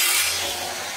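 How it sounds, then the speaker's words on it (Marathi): An angle grinder works the mouth of a steel tank with a harsh, hissing abrasive whine that is loud and close and continues steadily for the full second. "इकडं शंकू जोडाच्या टाकीच्या तोंडाला ग्राइंडर मारायला चालू आहे"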